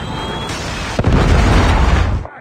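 A Predator missile strike in Call of Duty Mobile lands as a single loud, close explosion, a booming burst that rolls on for over a second before cutting off.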